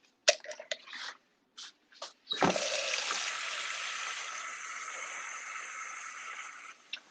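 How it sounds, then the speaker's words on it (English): Water poured into a bowl of brine for a prime rib, a steady splashing stream running for about four seconds after a few short knocks and clinks. "I'm also going to add some water to this so that it's a real brine."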